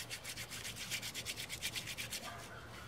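Wet hands mash and rub a saponin-rich plant into soapy pulp. About a dozen quick, even rubbing strokes sound close and faint, then trail off near the end.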